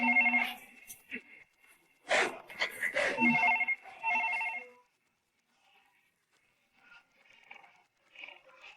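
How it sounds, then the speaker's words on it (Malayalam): A telephone rings unanswered in a comedy sketch, sounding in repeated loud bursts. Fainter sounds follow after it stops. "എന്താ ഫോൺ എടുക്കാത്ത?"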